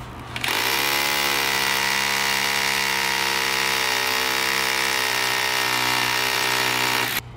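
A power drill bores into cement while a DIY calisthenics bar is being installed at home, giving a loud, steady, continuous whine for about seven seconds with no talking over it.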